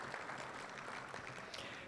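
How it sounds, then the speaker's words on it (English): An audience at a civic economic event applauds city commissioners, with steady, dense clapping throughout a short burst. "Round of applause."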